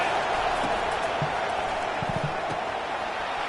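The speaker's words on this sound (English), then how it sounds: "This crowd bringing the energy and noise early." Steady stadium crowd roar inside NCAA 25 college football game coverage of Kansas versus Utah, a constant dense wash of noise at moderate level with a few faint thuds scattered through it.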